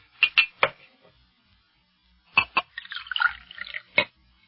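A glass of water is poured as a radio drama effect: a few short, close knocks and drips, then a brief trickling run of liquid and a final clink, with quiet gaps between.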